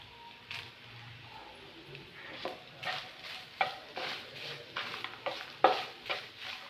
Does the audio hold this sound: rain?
no